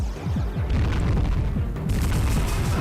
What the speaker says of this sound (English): I'm going to finish that guy with turtle cannons